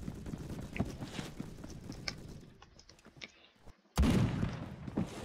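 STG-44 assault rifle fire in the Phantom Forces test place, a run of sharp, close shots in quick bursts, a short lull, then a loud blast near the end.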